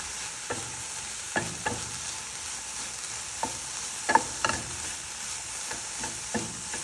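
Mixed vegetables frying in a pan, a steady soft sizzle under intermittent scraping taps of a spatula stirring, close and moderate in level with no talk.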